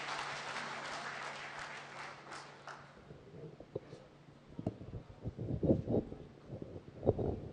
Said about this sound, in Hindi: एक बार हाथ उठा के तालियां बजाएं आदरणीय कीर्ति जी के लिए